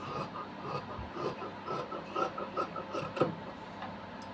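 Scissors cut through blouse fabric along a marked line, a soft steady rasping and rubbing of blades on cloth with small repeated snips, close and fairly quiet, with no voices.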